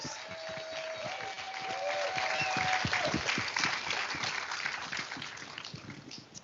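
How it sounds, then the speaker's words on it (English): An awards-show audience applauds its sponsors, a steady wash of clapping that swells and then fades, with faint tonal sounds and a voice under the clapping. "A huge round of applause for our sponsors."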